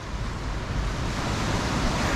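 Ocean waves wash onto the shore at Prachuap Khiri Khan Beach, a steady, broad rushing roar of surf mixed with wind, constant in level with no voices.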